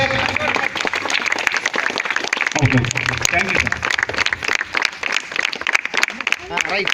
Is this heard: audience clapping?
yes